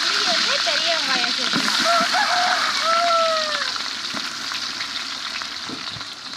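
Small and large onions with garlic and fenugreek sautéing in oil for a roasted-spice fish curry, giving a loud, constant close sizzle with stirring scrapes while a person talks over it.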